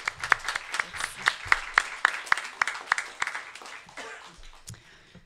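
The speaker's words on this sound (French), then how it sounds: "une bonne main d'applaudissements" An audience claps at a conference on queer women of influence: a brisk, dense round of applause that rises, holds steady, then thins and fades out over about five seconds.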